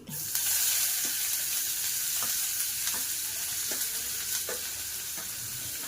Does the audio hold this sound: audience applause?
no